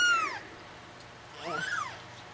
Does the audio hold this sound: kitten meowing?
yes